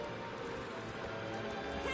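Horse hooves clattering and a neigh inside a fantasy role-playing video game featuring a Nord Dragonknight character, steady game sound running throughout at moderate level.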